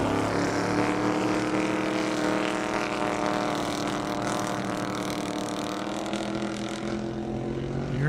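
A 2,500 horsepower car accelerates on a half-mile airstrip, a loud sustained engine drone with steady harmonic whine, close and continuous throughout before easing slightly at the end.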